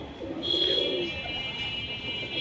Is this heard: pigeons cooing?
yes